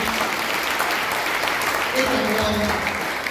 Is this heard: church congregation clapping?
yes